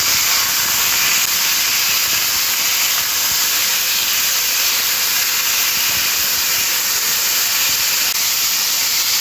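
Beetroot, potato and carrot fry in a pan with a loud, steady hiss of sizzling oil that holds evenly throughout, close and unbroken.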